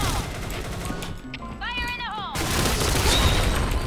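Rapid video-game gunfire from a single weapon, loud crackling bursts that pause briefly mid-clip, then resume in a dense sustained stream.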